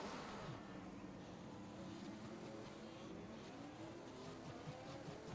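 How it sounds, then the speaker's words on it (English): Racing video game car at Circuit de Monaco spinning on a punctured rear-left tyre: a steady, loud engine drone with wavering tyre-squeal tones running the whole way through. "he's spinning in front of all the AI cars"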